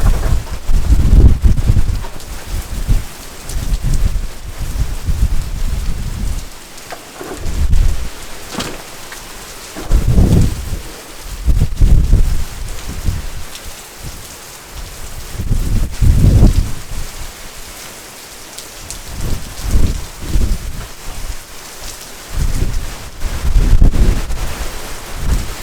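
Hurricane Milton's heavy wind-driven rain lashing down in Orlando, a loud continuous roar that swells in repeated gusts, with rumbling low surges throughout and no talking.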